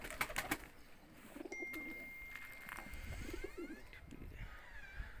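Tumbler pigeons coo softly in a loft, with low repeated throaty coos and a few chirps over a steady faint background hum.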